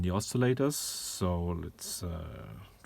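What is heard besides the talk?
No distinct noise like a dog, phone or traffic.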